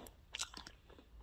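A crispy meringue cookie, made with lemon juice and baked in an air fryer or oven, crunches in a few quick, close bites, with a sharper crack near the middle and softer chewing after.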